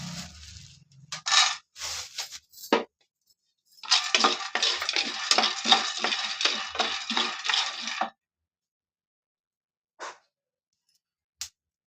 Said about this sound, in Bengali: চাটনি বানাবার জন্য এখানে আমি বাদামটা প্রথম ভেজে নিচ্ছি।